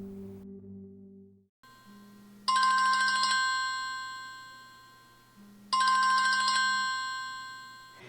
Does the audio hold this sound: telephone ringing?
yes